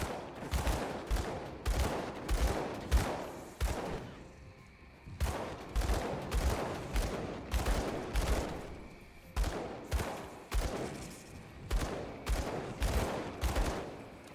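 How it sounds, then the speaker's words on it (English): Bursts of pistol gunfire from the Gunslinger character in the action role-playing game Path of Exile, with rapid volleys of shots in repeated groups separated by short pauses, loud and close. "So we're swapping back to pistols, just for this fight."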